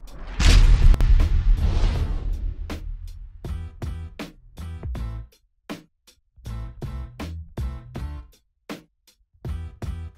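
DBS shotgun firing in PUBG Mobile, a series of sharp, booming shots in quick succession after a loud opening blast, each crack followed by a short tail, close and loud with no talk.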